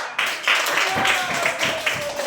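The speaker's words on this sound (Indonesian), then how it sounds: "sekali lagi kita tepuk tangan buat kelompok 3" Classroom applause for group 3, a short burst of clapping from students filling the space, with voices mixed in underneath.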